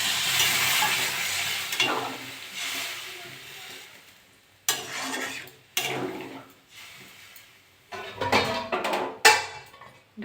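Water poured into a pan of well-fried spices for a prawn and green banana curry, with loud hissing sizzle at first that fades, followed by bursts of stirring and clattering against the pan.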